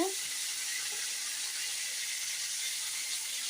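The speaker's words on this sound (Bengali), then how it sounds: "এই যে মাছটা উল্টাইতে আছি।" Tilapia sizzles hard in hot oil in a home kitchen as the fish is flipped, a loud continuous hissing fry that stays steady and close the whole time, with no voices.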